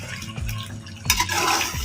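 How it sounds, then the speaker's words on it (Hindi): Water is poured into a beef Shinwari karahi with mixed spices and salt, a close, splashy gush that briefly surges midway. "यहाँ पे हम पानी शामिल कर देंगे।"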